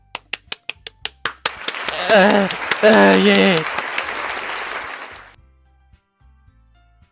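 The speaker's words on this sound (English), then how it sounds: "The four of us applaud." A few sharp single claps lead into a burst of applause in the visual novel game Doki Doki Literature Club, with a cheer and voices over the clapping before it fades to quiet taps.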